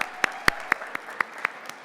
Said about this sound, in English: One more round of applause for Sabrina and Andrew